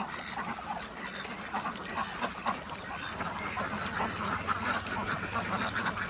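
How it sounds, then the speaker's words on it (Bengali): Dense flock of ducks on a duck farm quacking continuously in a noisy chorus, moderately loud and close, with no speech. "এখানে কিন্তু অনেক পরিমাণের হাঁস আছে"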